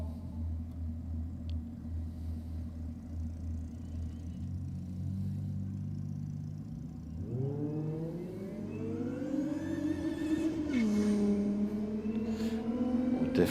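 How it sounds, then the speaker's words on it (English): A supercharged Commodore drag racing car at Sydney Dragway rumbles at idle, then launches with a rising, whining engine note that climbs and holds as it pulls away, moderately loud with no speech. "Definitely hear the whine of a supercharger."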